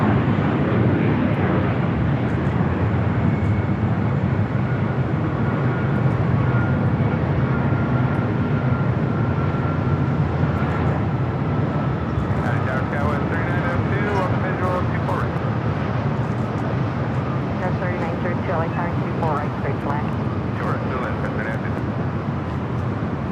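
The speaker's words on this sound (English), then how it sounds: "This flight coming in from Honolulu, a United 757-300. United 1221." A United Boeing 757-300 airliner arriving from Honolulu passes by, a steady broad engine roar holding at high level throughout, with people talking over it.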